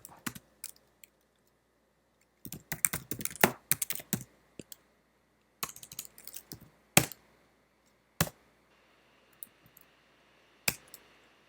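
Typing on a computer keyboard while coding, with short bursts of quick key clicks separated by pauses and a few single sharp taps, close and fairly quiet in a still room.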